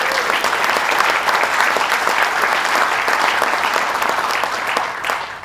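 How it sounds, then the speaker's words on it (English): Sustained audience applause at a business council presentation, loud and steady clapping from a crowd that continues without pause and fades slightly toward the end. "Let's give him another round of applause."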